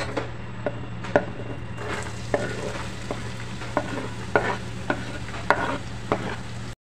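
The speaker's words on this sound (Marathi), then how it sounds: "तेल तापलेलं आहे। आता मी कांदा घालत आहे।" Two large finely chopped onions frying in about four tablespoons of hot oil for street-style anda ghotala, a constant sizzle with regular spatula clacks and scrapes against the pan, close and fairly loud, no talking.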